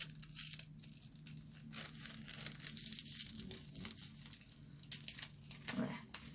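Foil tape is peeled back from a handmade gilded card, giving a soft, continuous crinkling and tearing close by, with a faint voice under it.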